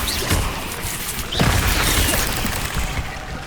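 Incendio fire spell cast in Hogwarts Legacy, a dense crackling burst of game effects with a sharp hit near the start and a louder whooshing blast midway that lingers and fades.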